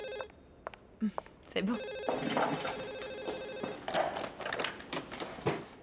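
An electronic telephone ringtone trills repeatedly in a room while someone briefly speaks over it.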